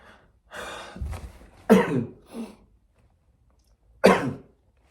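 Several close coughs and throat-clearing sounds, separated by short silences, with one final sharp cough near the end.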